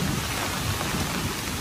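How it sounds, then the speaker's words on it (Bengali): Heavy rain pours down during a thunderstorm in the middle of an outdoor meal, a dense, steady, loud hiss with no voices or distinct thunderclap. "প্রচন্ড বৃষ্টি শুরু হয়ে গেছে, প্রচন্ড মেঘ"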